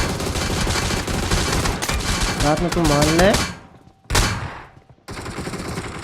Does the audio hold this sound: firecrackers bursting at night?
yes